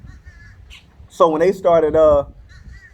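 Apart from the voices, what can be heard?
birds, crows cawing outside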